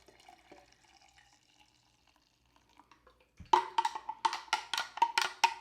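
Water pours into a cup while bubble tea is being made, a sudden close, bright splashing stream that starts partway in after quiet handling noises and continues in pulsing gushes.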